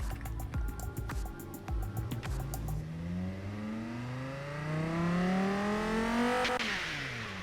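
A game-simulated 2003–2006 Dodge Viper V10 engine idles with a rough, pulsing rumble, then revs up in a long rising sweep to a loud, high peak before dropping off, with no talk.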